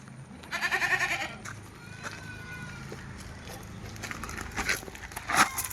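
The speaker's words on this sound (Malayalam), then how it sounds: "നല്ലൊരു പാലാട്." A milking goat, recently separated from two kids, gives a short bleat up close, then quieter bleats and rustling, with other farm animals around it.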